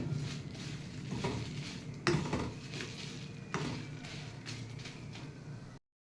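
Seven garlic cloves frying on a low flame in a kadai for silver fish curry, a steady soft sizzle running throughout with a few spoon scrapes and clinks against the pan, close and moderately loud, no talking.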